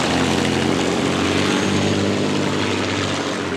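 At a lakeside boat race, the Rolls-Royce Merlin engine of the Aussie Connection powerboat runs as a loud, continuous, deep, rough roar that holds steady throughout, with no talk.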